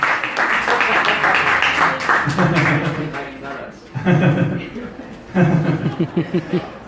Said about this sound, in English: let's give Vishnu Priya a big round of applause.